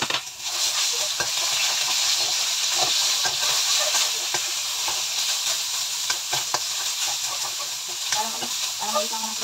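Pork hits a hot pan with garlic and ginger, giving a loud, steady frying sizzle with bursts of hissing and stirring scrapes throughout, close and continuous with no talk.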